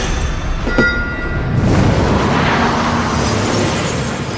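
Grenade explosion in a wartime battle setting around Caen, a sharp blast followed by a long, loud rumbling roar and debris noise that fills the rest of the moment, with no voices.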